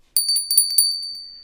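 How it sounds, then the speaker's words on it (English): A bright, high-pitched bell rings in a quick flurry of repeated strikes, crisp and close, then fades out with a lingering ring. "I had to put the bell sound."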